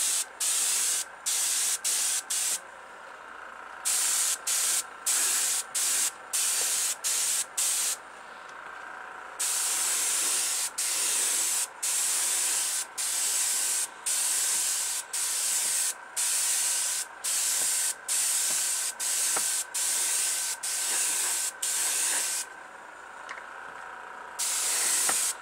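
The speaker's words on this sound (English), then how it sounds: "You want to start off of your subject, start your spray," Airbrush spraying Testors Aztek acrylic paint onto a model car body, a close, steady hiss broken into many short bursts with brief gaps between passes.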